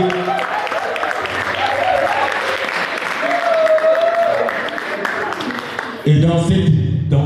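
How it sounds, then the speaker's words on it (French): A large crowd at a performance event cheers and claps loudly for a team of artists, a thick sustained wall of applause with voices in it, then a sudden shift near the end to music and speech. "c'est d'applaudir très fort la team qui est là"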